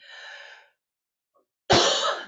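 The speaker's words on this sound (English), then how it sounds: "The coughing isn't part of it." Harsh, loud cough bursts close to the mic, one at the start, then a short silence, then another strong cough near the end, with no talking.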